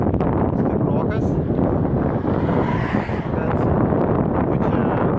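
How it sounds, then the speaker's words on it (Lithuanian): Strong wind buffets the microphone during an outdoor bicycle ride under overcast skies, a loud, steady roar with rumbling gusts lasting throughout. "Vėjas stiprokas"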